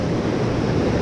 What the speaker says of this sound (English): the waves are pretty strong